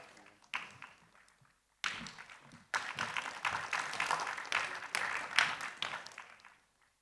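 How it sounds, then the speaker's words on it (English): Scattered applause from a small audience for an education panel, starting with a few sparse claps, then swelling into a steadier round of clapping before fading out, fairly faint and without voices. "keep the claps coming"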